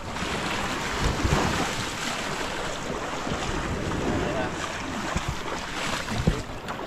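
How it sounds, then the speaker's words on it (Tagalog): Heavy surf and strong sea waves churn steadily under gusting wind buffeting the microphone, with a boat's hull faintly slapping through the noise during a rescue at sea. "Medyo malakas ang alon."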